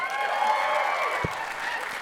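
An audience at a SXSW 2018 panel claps and murmurs, a dense, even spread of applause from a large crowd that runs through the whole moment, with voices mixed in.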